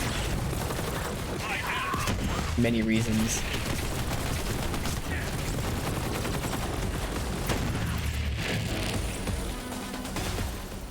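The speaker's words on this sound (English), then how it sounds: "I get in the habit of shooting with my cannon though." Cannon fire from Borderlands 3 pounds in dense, loud volleys throughout, mixed with mechanical clanks and weapon effects, while someone speaks briefly over the barrage.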